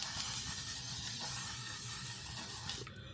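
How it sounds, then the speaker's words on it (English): L'Oreal Infallible Setting Spray misted onto a face as a steady, close hiss lasting about three seconds, cutting off near the end. "I take the L'Oreal Infallible Setting Spray"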